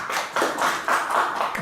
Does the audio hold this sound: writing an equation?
no